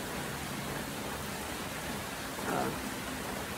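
Rain pours outside in a continuous broadband wash of drops, steady and near, with a brief louder rustle or bump just past the middle and no clear speech.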